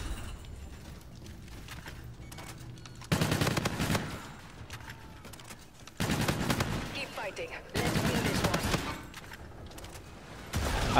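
Bursts of automatic gunfire from a shooter video game, loud and close, several sharp volleys broken by short quieter gaps, with game sounds in the background.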